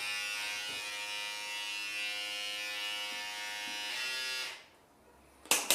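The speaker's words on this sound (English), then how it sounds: "I think this is a pretty nice trimmer." An electric trimmer buzzes steadily and close for about four seconds, then switches off, followed by silence and a couple of sharp clicks.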